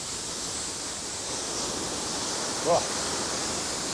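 Big ocean waves rush around the Rothmans racing yacht during the 1989/90 Round the World Race, a constant loud roar of water and wind spray, with a brief exclamation from a crew member.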